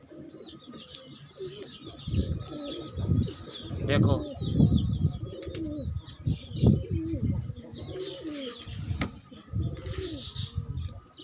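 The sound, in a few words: Indian pigeons of old Kalsere Kaldumbe breed cooing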